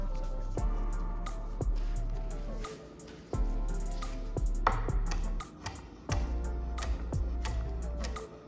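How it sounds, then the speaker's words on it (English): A knife rough-chops basil on a cutting board, giving a string of crisp, close taps at an irregular, unhurried pace with brief pauses between runs of cuts. "Now we're gonna rough chop 1 tablespoon of basil."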